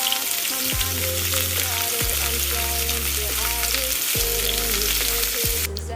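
Mandazi dough pieces frying in hot oil, a steady close sizzle with bubbling crackle running throughout, no voices.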